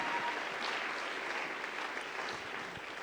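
A church congregation applauds the Lord during a sermon. The clapping is sustained and dense and fills the hall evenly throughout, with no voices over it.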